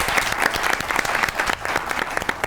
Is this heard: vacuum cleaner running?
no